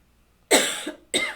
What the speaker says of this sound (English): And the cough shows up.